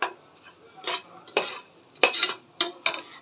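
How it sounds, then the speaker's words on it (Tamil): Chilli powder being stirred into mushroom biryani in a pot, heard as a series of distinct close scraping strokes of a spoon against the vessel, roughly six bursts over a few seconds with quiet gaps between. "மிளகாத்தூள் போட்டு நல்லா கிண்டி ஊற்றிக்கலாம்."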